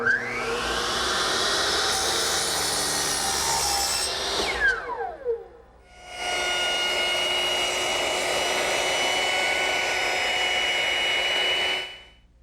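A power tool trims a wooden piece for a marble roll build, whining loudly in two long runs separated by a spin-down and a brief pause.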